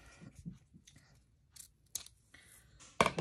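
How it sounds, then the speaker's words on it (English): Scissors snipping ribbon while making craft room decor, a few soft scattered cuts and rustles ending in a sharper, louder snip, close and quiet overall. "I'm thinking I might cut it off a little bit more."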